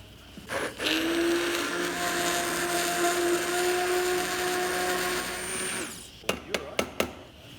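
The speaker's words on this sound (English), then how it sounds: "We're going to grab the blender." A blender whirs steadily on a batch of simmered cherries in a competition cooking kitchen, a loud continuous motor hum lasting several seconds before stopping, followed by a few sharp knocks.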